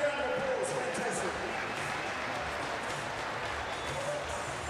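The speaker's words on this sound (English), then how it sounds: "Give them a big round of applause." A basketball arena crowd at an NBL game between the SKYCITY Breakers and Melbourne United claps and cheers in a steady, dense wash of applause that holds from start to finish without fading.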